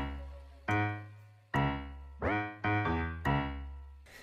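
Heavy piano chords recreating the piano from a song ring out one after another, with a couple of them bending in pitch, each chord decaying before the next.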